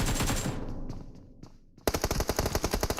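Automatic gunfire sprays in a PUBG Mobile esports match, a long loud burst tailing off, then a second rapid burst of close, evenly spaced shots.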